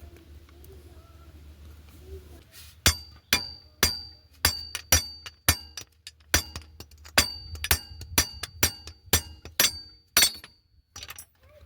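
A car driveshaft flange on an E46 xi front driveshaft is struck with sharp, ringing metallic hits, a rapid irregular series of a dozen or more close, loud knocks after a quiet start.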